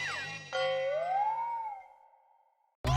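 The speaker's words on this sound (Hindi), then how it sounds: "ये कॉल वेटिंग पे पोपटलाल का फोन है भाई" A phone's call-waiting alert sounds as a bright electronic tone that slides and holds before cutting off, followed by an abrupt louder burst at the end.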